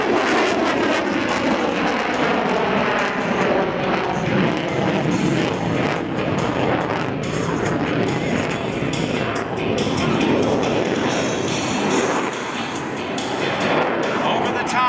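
A Hornet jet flies during an airshow at Thunder over Michigan 2024, producing a loud, continuous broadband engine roar that holds steady throughout with no clear pauses.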